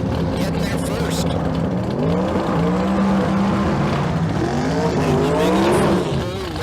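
A 1967 Camaro drag race car roars past at the finish line, loud engine pitch sweeping up and down with other cars, as a commentator talks over it.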